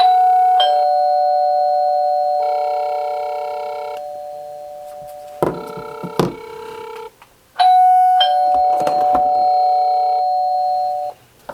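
A WISDOM smart video doorbell chime rings out loud and clear, a bright multi-tone melody played in three separate bursts with short pauses and faint handling knocks between them.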